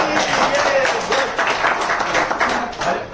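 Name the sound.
audience clapping hands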